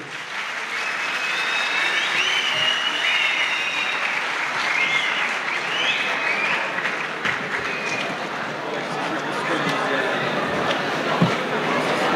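Steady applause from a school audience welcoming a youth choir and their teachers onto the stage at an Imam Hatip high school event in Bafra, sustained and fairly even throughout with scattered crowd chatter beneath.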